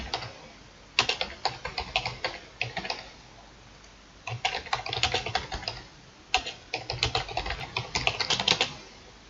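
Rapid typing on a computer keyboard while entering article text, close dense bursts of key clicks separated by short pauses, with no voices.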